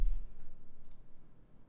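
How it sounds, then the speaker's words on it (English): Keyboard keys pressed together, Control and F12: a brief soft click near the start, followed by faint low background hum and a couple of light taps. "you hit Control and F12"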